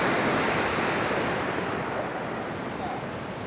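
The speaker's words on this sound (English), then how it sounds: "Look at those waves." Ocean waves roll in at the Carolina Beach pier, a steady loud wash of surf with constant rushing noise and some wind buffeting on the microphone.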